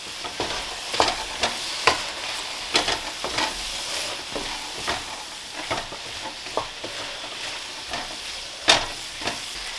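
Pineapple and fried rice are stirred in a hot pan, with a spatula scraping in irregular close strokes over a constant sizzling hiss.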